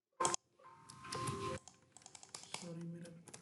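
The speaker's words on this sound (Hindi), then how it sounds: "सॉरी मेरा कीबोर्ड का थोड़ा इशू है" A computer keyboard being typed on during a PHP e-commerce coding tutorial: a burst of clicks, then a run of quick, uneven keystrokes close to the microphone, with a voice heard in between.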